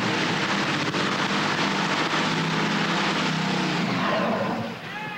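A loud, rough 4,000-horsepower Top Fuel dragster engine roar rumbles steadily for several seconds while warming up at a 1989 NHRA drag race, a dense, powerful mechanical drone that eases off slightly at the end.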